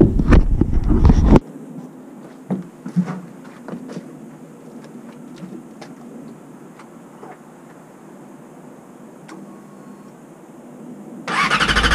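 A Yamaha R6 motorcycle engine with a check engine light turns over and catches briefly, then settles into a quiet idle with ticking, before revving loudly again at the end.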